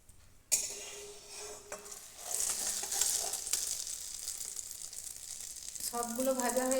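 Egg and tomato chops sizzle as they fry in oil, with a steady crackle joined by clinks of a utensil against the pan, brief handling noises, and a spoken voice at the end.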